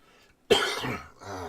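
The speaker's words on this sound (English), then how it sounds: "Get a good cough here." A single forceful cough bursts out close by after a moment of quiet, followed by a rougher, lower throat-clearing rumble.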